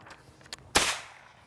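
A trip alarm fires a blank with one sharp, loud bang, like a firecracker, preceded by a couple of faint clicks and followed by a brief fading echo.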